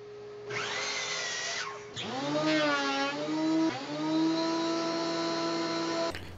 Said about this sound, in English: I'm going to just plane this down to 1 inch on all sides